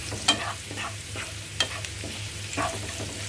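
Ginger and asafoetida frying in a pan, a soft steady sizzle broken by a few light stirring scrapes, fairly quiet throughout.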